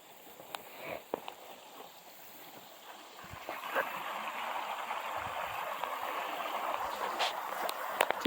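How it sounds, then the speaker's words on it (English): Tennessee creek flowing beneath a covered bridge, a soft broadband wash of moving water that grows steadier and a little louder midway, with scattered light splashes and knocks. "Typical creek in Tennessee."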